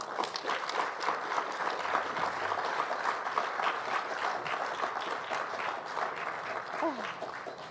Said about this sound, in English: Another round of applause for Dr. Pemberton.